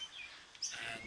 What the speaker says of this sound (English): hopefully you'll be able to hear past all the screeching little baby birds that are begging for some food